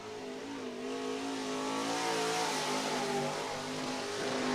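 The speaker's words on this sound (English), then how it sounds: "10th car to hit the track, the 54N Nick Trenchard." An IMCA Modified race car's engine revs and accelerates during qualifying on the Cottage Grove Speedway dirt track, pitch climbing and dipping as it roars past, fairly close, with no voices.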